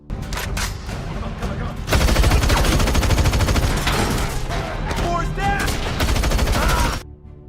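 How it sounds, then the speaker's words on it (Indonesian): Loud, sustained gunfire from a film heist shootout, with dense rapid bursts of automatic weapons filling the scene almost without pause, ending abruptly into quiet. "Bullet yang licik menembak Patrick dari belakang"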